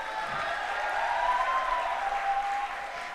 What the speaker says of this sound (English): A big round of applause for all our graduates